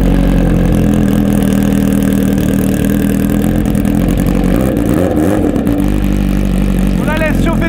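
A Kawasaki H2R motorcycle engine warming up, loud and steady at a close, rumbling idle with slight wavering in pitch throughout.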